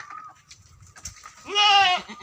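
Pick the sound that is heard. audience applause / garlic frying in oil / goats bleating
goats bleating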